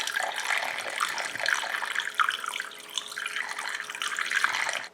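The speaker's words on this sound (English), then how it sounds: "now all we have to do is fill the radiator up with coolant" Coolant, a 50-50 mix of antifreeze and distilled water, pours steadily into the new aluminum radiator of a Jeep Cherokee XJ, a continuous splashing gurgle with no talk.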